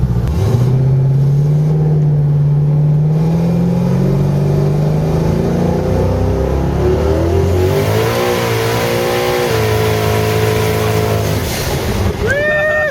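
A 1500 hp fifth-generation Camaro street car built by Nelson Racing Engines doing a long burnout, loud, close engine roar rising and wavering in pitch as the tires spin continuously for several seconds.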